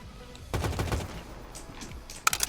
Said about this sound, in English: I get a Halo assault rifle here.